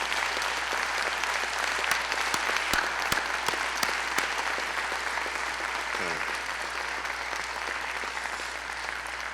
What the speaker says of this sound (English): And parents, give them a round of applause, please.